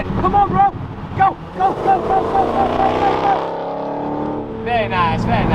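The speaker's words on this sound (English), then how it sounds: "That supercharger sounds so good." Supercharged Dodge Challenger Hellcat engine revving and accelerating up close, with a rising whine sweeping upward and rumbling exhaust, interrupted by short bursts between gear changes.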